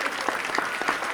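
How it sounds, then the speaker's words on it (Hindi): A crowd in a pandal at a comedy poetry show by Sudeep Bhola claps in a brief, moderately loud burst of overlapping hand claps, with a few sharper individual claps standing out. "ये पूरा पंडाल तालियों से गूंज जाएगा"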